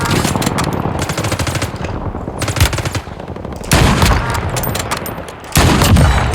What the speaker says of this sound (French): J'essuie des tirs.